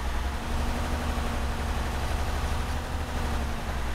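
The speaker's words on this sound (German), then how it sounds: "Hier ist ein Quad und der Motor ist an." A quad bike engine idles steadily in Arma 3 Altis Life, a low continuous rumble at moderate level with no speech.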